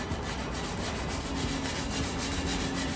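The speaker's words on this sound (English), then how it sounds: "you want to start with a 60 grit, which is like a very, very coarse kind of sandpaper" Steady, coarse rasping of 60 grit sandpaper rubbed over metal patio furniture, a continuous close scratching with a faint rhythmic back-and-forth and no talk.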